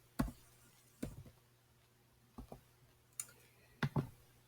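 A password or student ID is typed on a computer keyboard as a handful of faint, sparse keystroke clicks with irregular gaps between them. The room is otherwise quiet.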